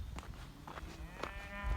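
Cows and heifers low and moo in a herd of about 125 being moved between pastures on a cattle drive, several overlapping calls close by in quick succession.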